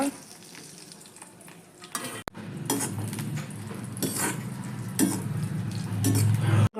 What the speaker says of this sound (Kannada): ಈಗ ಈ ತುಪ್ಪದಲ್ಲಿ ಗೋಡಂಬಿ ದ್ರಾಕ್ಷಿ ಹೊರ್ಕೊಳ್ಳೋಣ